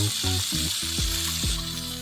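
Garlic, onion and tomato sauté in a pan with a steady, bright sizzle, accompanied by sustained tonal sounds that rise and fall in pitch.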